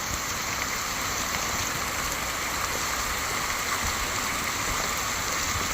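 Steady rain falls with water running down a hillside gully toward a river, a continuous dense wash with no break and no voices.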